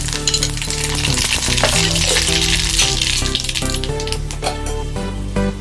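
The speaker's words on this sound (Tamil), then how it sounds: "நம்ம இப்போ கடுகு உளுந்தம் பருப்பு போட்டுக்கலாம்." Mustard seeds and urad dal crackle and sizzle in heated oil for an ivy gourd stir fry. A steady, dense frying hiss runs throughout with a few brighter pops, over a continuous tonal music bed.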